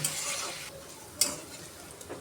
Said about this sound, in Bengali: এখন আমি তেল দিয়ে দিব এখন সুন্দর করে বাজা ভাজা করে নিব